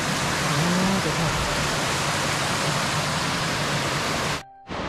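A mountain waterfall and stream rush through Chilseon Valley, a loud, dense, unbroken roar of falling water close by that stops abruptly just before the end.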